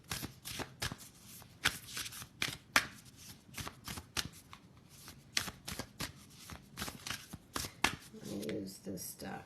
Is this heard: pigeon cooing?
no